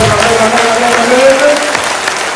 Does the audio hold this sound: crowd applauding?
yes